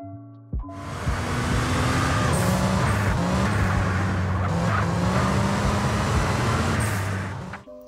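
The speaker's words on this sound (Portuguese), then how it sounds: "Som de turbo." A modded GTA San Andreas car engine revs hard with a turbo whine, tires squealing repeatedly over a loud, continuous roar that cuts off abruptly.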